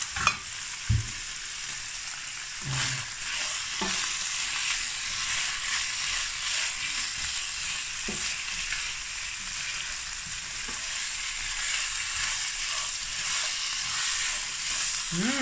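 Ginger and onion sautéing in a hot pan for pork binagoongan, a steady close sizzle and frying hiss throughout, with a few soft stirring scrapes and clacks of a utensil against the pan.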